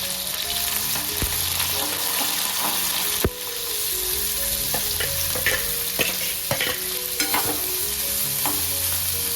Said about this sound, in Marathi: एका कढईमध्ये थोडं तेल लसूण मिरच्या आणि कांदा आपण मंद आचेवर परतून घेणार आहोत